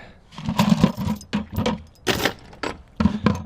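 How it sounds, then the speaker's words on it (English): Loose metal chain handled at an estate sale tool hunt, clinking and rattling in short uneven bursts, close and fairly loud. "Oh yeah, more chain."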